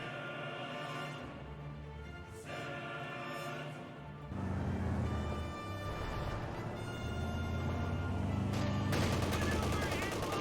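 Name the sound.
infantry gunfire in Company of Heroes 2 video game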